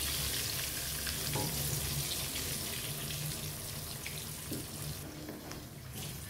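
Tempeh fries in hot oil in a home kitchen, giving a continuous close, crackling sizzle that stays fairly even throughout.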